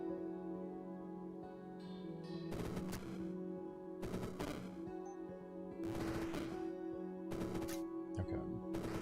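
Explosions and rapid gunfire in a video game battle come in loud clustered bursts roughly every one to two seconds, layered over a steady droning in-game soundtrack.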